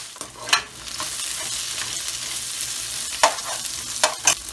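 Onions fry in a hot pan with a constant close sizzle, broken by a few sharp scraping strokes of a spatula stirring them. No one speaks.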